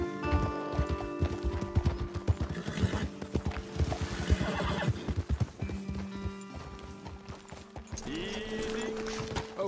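Horses in Red Dead Redemption 2 clip-clop with quick, close hoofbeats on the ground and let out several loud neighs and whinnies, with faint background game sounds.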